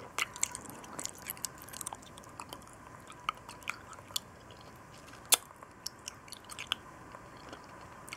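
Close, quiet crunching and biting on a hard Mexican milk caramel lollipop, scattered sharp crackles over soft chewing and mouth sounds, with no voice.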